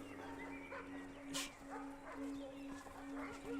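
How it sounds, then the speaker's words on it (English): Dogs in a fantasy drama hunting scene yelp and bark intermittently through the clip, moderately close, over a steady low hum and some background voices. "we hear some dogs"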